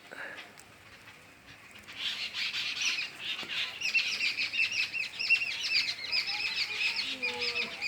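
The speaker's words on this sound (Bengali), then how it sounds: "আগে পাখিদের আওয়াজ একটু শুনে নিন" Birds chirp and tweet among garden plants beside bitter gourd vines, a busy cluster of bright calls that swells after a quiet start and continues to the end.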